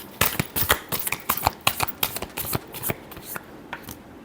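Tarot cards are shuffled by hand in quick, close, crisp riffling bursts, about a dozen sharp slaps in an uneven rhythm that thin out toward the end, with no talk.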